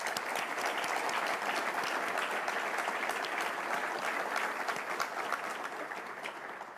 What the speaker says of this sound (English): let's just pause to give yourself and the people who helped make today possible for you a round of applause